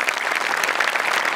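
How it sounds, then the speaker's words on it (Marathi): A comedy show audience gives a team a hearty round of applause, loud, dense clapping from a crowd that carries on steadily without pause. "इथं जोरदार टाळ्या टीमसाठी."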